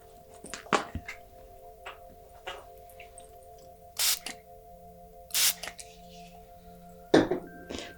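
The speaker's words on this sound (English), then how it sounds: "I'm going to spray a little bit of this in here too." Several short hissing sprays from a spray bottle of frankincense mist, three or four quick bursts spaced a second or two apart, close by, amid soft clicks and a faint steady hum.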